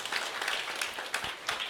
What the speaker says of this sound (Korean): 좋은 말씀 해주신 노정구 총장님께 뜨거운 박수 부탁드리겠습니다